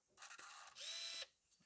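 A Pentax Espio 110 compact film camera powering on, its lens zoom motor whirring in two short close bursts, the second a steadier, higher-pitched buzz lasting about half a second.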